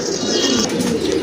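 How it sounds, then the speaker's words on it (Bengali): Pigeons coo at a farm selling racing pigeons, a continuous low throaty warble close by, with faint higher chirps over it. "আরেক জোড়া কবুতর"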